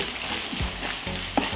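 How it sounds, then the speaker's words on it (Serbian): Chopped onion fries in hot oil in a wok, a dense close sizzle with occasional stirring scrapes and clinks, steady throughout with no talk. "dodajem seckani crni luk i pržim ga dok ne omekša"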